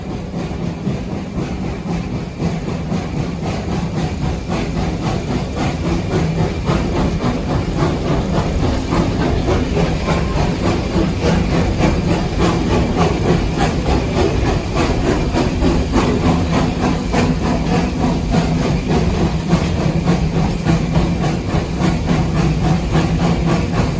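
A Virginia and Truckee Railroad train rumbles along steadily, with a loud continuous roar and rhythmic clatter from the cars rolling on the rails for the whole stretch.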